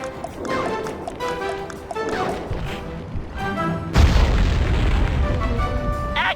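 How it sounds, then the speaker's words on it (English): Dynamite blows up with a loud, booming blast in the Sly Cooper stealth game, set near an anchor above a Venetian skyline, its rumbling roar sustained over game music and effects. "Place the dynamite when you get near the anchor, or kaboom!"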